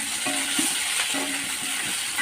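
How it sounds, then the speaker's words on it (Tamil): Vallarai (brahmi) leaves sauté in a hot pan with a continuous bright sizzle and a few soft stirring scrapes, close and steady, with no voices. "இந்த வல்லாரை வச்சுருக்கோம்னா அதை வந்து நம்ம வதக்கிக்கணும்"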